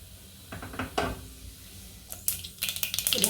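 Mustard seeds and cumin crackle and pop in hot oil in a kadai, with a few clinks of a utensil against the pan, close and moderately loud, with sharp spluttering bursts toward the end.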